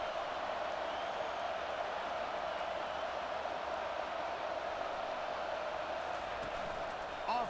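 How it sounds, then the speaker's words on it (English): A stadium crowd roars steadily and loudly during a football game as fans try to help their defense, a dense, sustained wall of cheering with no break from start to finish. "Listen to this crowd just shaking the girders of this place trying to help their defense."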